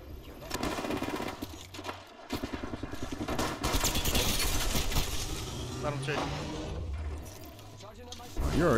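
Rapid automatic gunfire fills the Apex Legends match almost continuously, loud and dense, mixed with game effects and a player talking over it.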